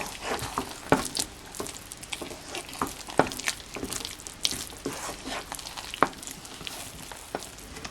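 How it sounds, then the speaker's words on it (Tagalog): Espasol de ube mixture with condensed milk being stirred in a pan, a steady soft scraping and sticky stirring texture with scattered sharper clicks of the utensil against the pan, close and moderately quiet, no talking. "So ituloy natin ang paghahalo."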